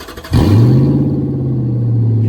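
A Lexus LS400 that has sat unused for over a year cranks briefly and then catches, settling into a loud, steady, rumbling idle close by.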